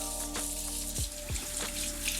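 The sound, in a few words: running water rinsing dyed hair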